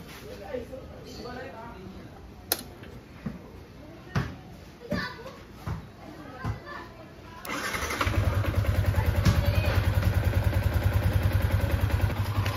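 A Yamaha Sniper 155 motorcycle fresh from a coolant flush: scattered clicks and taps, then the engine starts and settles into a steady, close idle in the second half, with people talking faintly around it.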